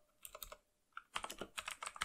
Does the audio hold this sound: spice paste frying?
no